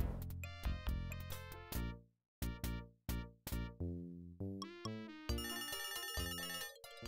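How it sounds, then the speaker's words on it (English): A telephone rings in the retro adventure game Leisure Suit Larry, loud repeated electronic ring bursts with brief gaps, mixed with bright game music tones. "The phone's ringing."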